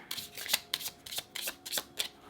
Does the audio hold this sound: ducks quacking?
no